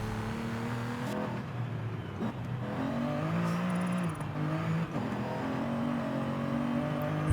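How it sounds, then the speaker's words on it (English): A car engine in Forza Horizon 5 with a V12 tone like a Ferrari's, heard steadily from the cabin, holding a loud sustained drone that climbs and falls through gear changes with no talking. "It sounds a little bit more like a Ferrari's V12 now than anything else."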